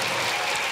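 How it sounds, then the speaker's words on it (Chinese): A studio audience on a variety talk show breaks into a short, dense burst of clapping, loud and close, with no voices over it. "掌声鼓励。"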